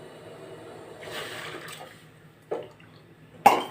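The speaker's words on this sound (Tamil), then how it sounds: "இப்போ தண்ணி கொதிக்குது" Water heats in a pot for a kambu millet drink, giving quiet, sparse bubbling and a few soft splashes and gurgles against a hushed background.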